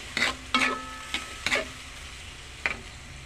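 A utensil stirs an octopus stir fry with sauce and bell pepper in a pan, making about five scraping clacks at an uneven pace over a low sizzle, close and without talk.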